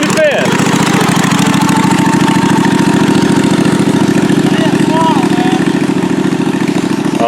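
A Murray mower engine runs at idle in fifth gear with no throttle. It makes a loud, close, steady low putter that never stops, and voices talk briefly over it.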